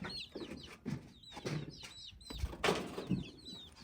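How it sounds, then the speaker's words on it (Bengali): Farm chickens clucking in short, repeated bursts at close range, with occasional wing flaps and other birds calling in the background. "আমাদের ফার্মিং মুরগিগুলো কিন্তু দশটাই আছে একটাও মারা যায় নাই"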